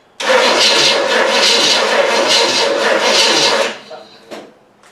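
An old car engine, left sitting for 25 years, is cranked by its starter for about three and a half seconds in a loud, rhythmic rasping churn without catching, then cuts off, leaving faint clicks and rustling.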